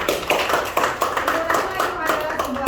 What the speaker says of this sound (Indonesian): Silakan lu memberikan tepuk tangan